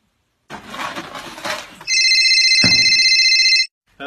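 A phone call placed home brings a loud electronic ringing tone, a steady sustained buzz that sounds for under two seconds, preceded by soft handling noise and a sharp knock mid-ring.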